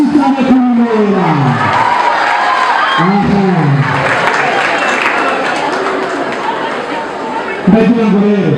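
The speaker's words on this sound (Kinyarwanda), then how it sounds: "Amashyi menshi cyane kuri Noella." Audience applause and cheering for a performer named Noella, a dense sustained clatter of clapping under a loud voice speaking over a microphone, swelling again toward the end.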